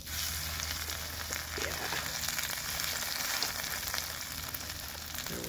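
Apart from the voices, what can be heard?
schnitzel frying in hot oil in cast iron pan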